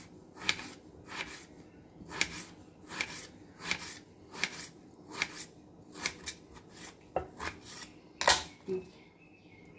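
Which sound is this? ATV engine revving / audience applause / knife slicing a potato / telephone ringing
knife slicing a potato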